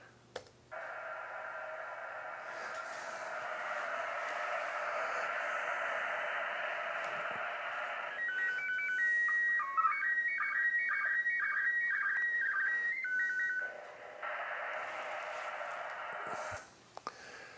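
An ISS slow-scan television image transmission plays back through a small speaker: a steady hissing, radio-like tone band, then a stretch of rapid warbling, stepping tones, before the hiss returns, with no voices.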